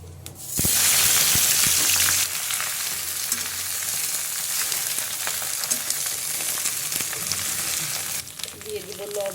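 Taro leaves go into hot oil in a wok and set off a sudden loud sizzle, which settles into a steady, close crackling fry that continues to the end.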